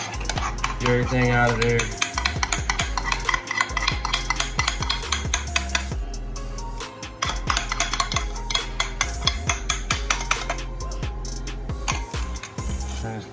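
Butter stirred in a pan while cooking garlic parmesan pork chops, with repeated clinking and scraping of a utensil against the pan in quick, irregular strokes, close and clear, and a brief spoken remark.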